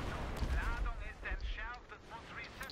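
Grenade blasts in the Battlefield 3 video game, heavy low booms and gunfire rumbling in a busy battle mix while players talk over the top.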